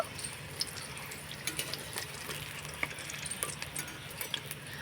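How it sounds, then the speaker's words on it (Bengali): Khaja sweets frying in oil over low heat, a soft steady sizzle with small popping bubbles and occasional faint clinks, close and even, without voices. "তো খাজাগুলোকে আমি হালকা আঁচে ভেজে নিয়েছি"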